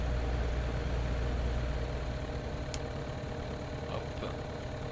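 A DR400-180 light plane engine in the FSX flight simulator, lining up on a short 900-metre runway, drones at a steady low idle throughout, with a brief faint click partway through.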